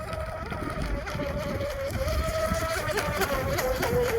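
An Oxidean Oxi-digger RC outrigger boat, a 34-inch pre-assembled wood kit, runs steadily over rough water, its high motor whine wavering in pitch beneath constant wind and water noise.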